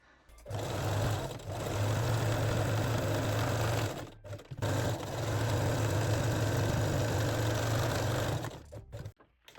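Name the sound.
sewing machine zigzag stitching along fabric edges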